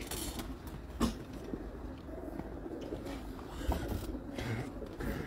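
Pigeons held in hand by a breeder from a champion pigeon-keeping family in Hafizabad, Punjab, giving soft intermittent coos amid faint creaks and handling noise, with light background rustle.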